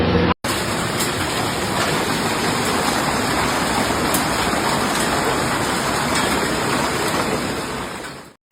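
Dense, roaring downpour with rattling impacts, a constant heavy wash of rain and large hail in Denver, Colorado, that cuts off abruptly at the end.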